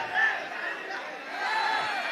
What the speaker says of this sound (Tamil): எதுக்கு கூச்சல் போடுறீங்க?